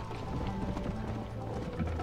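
Galloping horse hooves in the Red Dead Redemption video game, a steady clip-clop rhythm running continuously at moderate loudness over a dense game soundtrack.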